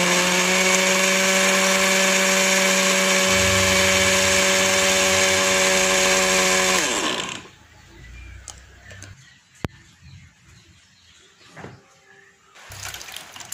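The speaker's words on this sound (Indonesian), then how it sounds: "Setelah itu, blender ubinya ini sampai halus." A kitchen blender purees steamed sweet potato with 400 ml of water. It gives a loud, steady motor whir for about seven seconds, then spins down to quiet, with faint clatter afterward.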